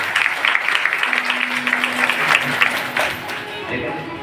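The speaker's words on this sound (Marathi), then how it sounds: "टाळ्या वाजवा सगळ्या दोघांनी टाळ्या" An audience at a devotional religious discourse claps together in a steady, dense patter, close and continuous, with talk running over it.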